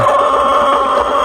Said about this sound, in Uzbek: Bu yerda har xil tovuqlar bor ekanda, aralashgan, ha?